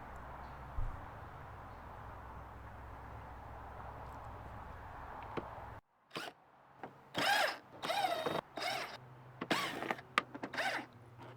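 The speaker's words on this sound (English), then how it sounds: "Take out these 6 screws." Six screws come out of the interior hatch panel of a first-generation MINI Cooper. A steady hum gives way to short, loud bursts of a power screwdriver whirring, with pauses between them.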